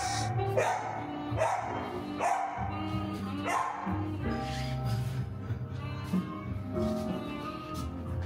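A dog barks repeatedly in short bursts from upstairs, somewhat distant, over a busy indoor pet shop background with other noise.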